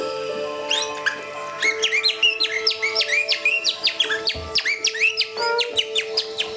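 Rapid chirping bird-like trills played on a musical instrument imitating birdsong, bright repeated whistled figures over a sustained low drone, loud and close.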